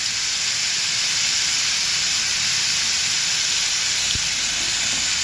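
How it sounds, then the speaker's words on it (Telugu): Chicken sizzling in hot oil for a pizza topping, a loud, unbroken hiss of frying that stays level from start to finish, with a single faint knock near the end and no talk. "ఆయిల్ వేడైనాక చికెన్ ఈ విధంగా వేసుకోవాలి."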